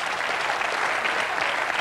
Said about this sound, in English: Give them a nice round of applause, the ladies.